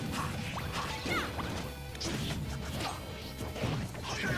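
Super Smash Bros doubles grand finals match, with down smash attacks landing as a run of quick crashing hits and whacks with swishes between them. The action is steady and moderately loud with no voices.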